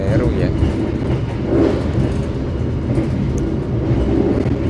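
Interior of the Pandalungan passenger train's executive-class stainless-steel carriage running on rails, a steady low rumble and rolling clatter that persists throughout, with a voice talking over it.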